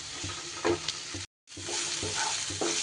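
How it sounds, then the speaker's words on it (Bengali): Spice paste frying and being stirred in a pan for a patol (pointed gourd) curry: steady loud broadband sizzle with a few spoon scrapes, briefly cutting out before resuming. "এইবার মশলাটাকে একটু 2-3 মিনিট ভালো করে কষিয়ে নিতে হবে।"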